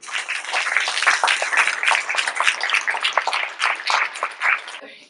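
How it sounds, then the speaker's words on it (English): A crowd applauding high school students at the Technovation 2015 event, an irregular scatter of claps that rises and falls over about five seconds. "I think you all deserve a round of applause for this."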